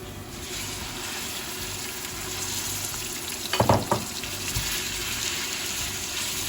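Garlic and minced pork frying in a pan, a constant close sizzle with a brief burst of louder scraping and stirring midway, with no voices.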